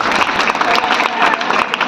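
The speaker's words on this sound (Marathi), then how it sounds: "टाळ्या देऊया तात्यांसाठी" An audience at a village birth-centenary ceremony during a Harinaam Saptah gathering claps steadily and densely for an honoured elder, a continuous, fairly loud wash of applause with no break.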